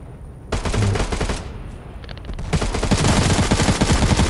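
Rapid bursts of automatic gunfire in the video game Knives Out, loud and continuous, with a brief pause before an even denser stretch of shooting.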